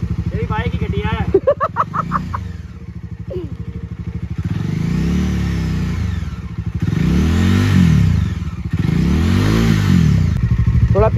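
A Bajaj Dominar motorcycle engine revs loudly and close by in repeated rising-and-falling surges, with brief voices near the start.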